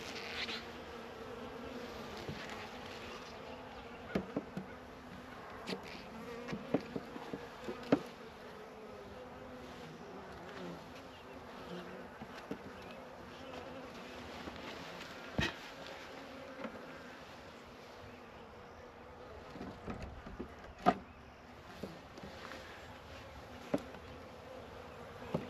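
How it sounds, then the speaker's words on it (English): Honey bees buzzing around a hive, a faint continuous swarm hum with occasional closer individual bees flitting past, steady and unbroken with no talking. "I'm just going to set the rest of these bees here. They'll go down in the hive."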